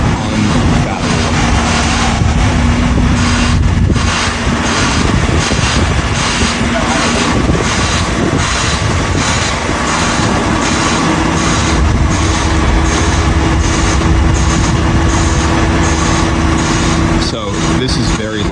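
A loud truck idling outside a house, a heavy, unbroken engine drone with a dense rumble that fills the air without letup.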